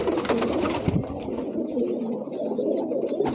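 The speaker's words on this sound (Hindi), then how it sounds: "सारे कबूतर ऐसे ही रहते हैं।" Pigeons cooing in an indoor loft kept alongside chickens, soft repeated low coos from several nearby birds with faint higher chirps over a continuous murmur.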